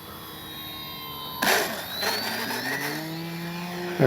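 An FMS CJ-6 V2 radio-controlled model airplane with retractable gear flies a touch-and-go pass, its steady whining motor rising and shifting in pitch as it passes nearby, with gusts of wind noise and no talking.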